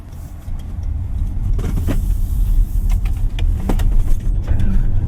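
A Toyota bZ4X AWD electric car pulling away, heard from inside as a low steady road rumble and hum building slightly, with faint clicks and light interior rattles, no talking.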